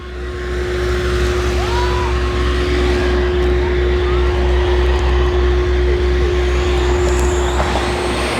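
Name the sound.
motorcycles with missing silencers roaring past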